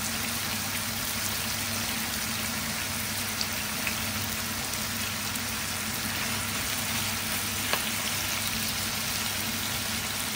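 Onion frying in a pan for a dish of kangkong with pork, a continuous even sizzle and hiss with a faint low background hum, no talking.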